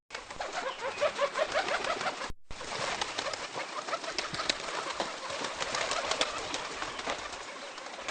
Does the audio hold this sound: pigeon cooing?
yes